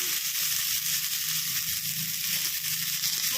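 Close, steady sizzling of curry leaves frying in hot oil, a bright crackling hiss that runs continuously without pause.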